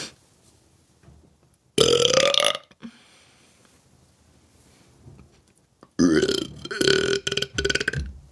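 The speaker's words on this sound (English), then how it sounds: "Can you burp" Two loud, drawn-out burps sound close to the microphone, the first lasting about a second and the second longer and rougher, with quiet stretches between them.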